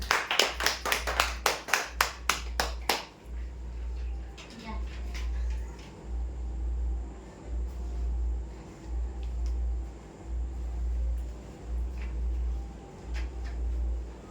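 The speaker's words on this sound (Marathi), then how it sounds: "जोरदार टाळ्या होत्या यांच्यासाठी" Audience applause bursts out as a run of sharp, even claps for a weekly prize draw winner, then gives way to a low, steady hum.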